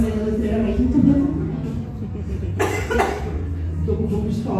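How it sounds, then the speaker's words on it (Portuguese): A person coughs a few times close up, with a harsh burst near the start of the second half, mixed with low background murmur. "estou com um pouco de tosse"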